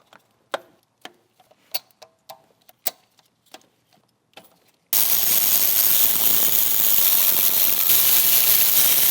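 A ratchet with a 14mm spark plug socket breaks free spark plugs on a BMW M2's S58 engine, giving a run of sharp, uneven clicks. About halfway through, a loud steady broadband rush abruptly takes over.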